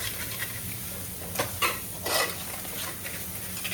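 Crab curry masala with salt being stirred in a pan, a few soft scrapes and clinks over a steady low background hiss, close but quiet, with no talking.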